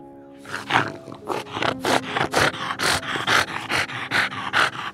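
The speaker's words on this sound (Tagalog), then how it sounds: "Bigla siyang naging aso. Inangilan ang lalaki." A dog growls and snarls as a sound effect in a horror story, a loud, close run of rough, rhythmic bursts with no talking over it.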